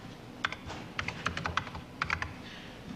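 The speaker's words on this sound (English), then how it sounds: "That's the first time I touched the keyboard." Keys tapped on an early Apple Macintosh computer keyboard in short irregular bursts, crisp clicks heard close against a quiet room background, no talking.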